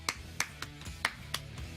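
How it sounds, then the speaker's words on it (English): A slow clap: single hand claps spaced roughly a third of a second apart, six or so sharp close strikes in an even, deliberate rhythm with quiet gaps between. "Slow clap."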